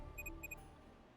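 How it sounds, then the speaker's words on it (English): Short electronic beeping in the Psychedelica of the Black Butterfly video game: a quick double beep repeated twice, thin and high-pitched, over a low ambient drone, fairly faint. "An electronic beep had suddenly pierced the silence."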